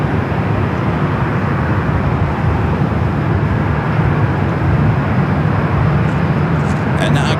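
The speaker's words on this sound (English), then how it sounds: "Lufthansa about to touch down at 24 right." A Lufthansa airliner lands on runway 24 right at Los Angeles International Airport, giving a steady, loud broadband roar that holds evenly without pause for the whole stretch.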